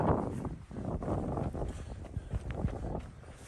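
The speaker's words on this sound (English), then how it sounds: "A little windy, not bad." Blustery wind buffets the microphone in uneven rumbling gusts, with faint background noise and no clear voice.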